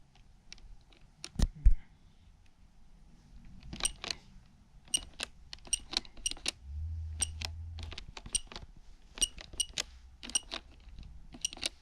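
Button presses on a 1980s electronic hangman game, an old device with worn buttons, producing a series of small, sharp clicks in an uneven typing rhythm, close and fairly quiet, with no talking.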